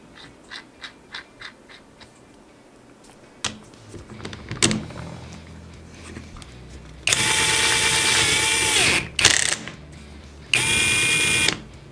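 Small clicks and taps as an adapter is screwed onto the chuck of a Mensela EW-L1 18V brushless cordless impact driver, then bursts of its whining motor running for a couple of seconds each, loud and close.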